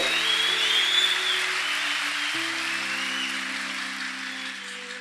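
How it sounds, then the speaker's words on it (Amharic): An audience applauding at a church gathering, a steady wash of many hands clapping that stays loud and fairly even throughout, with a sustained musical tone underneath. "አጨብጭቡለት።"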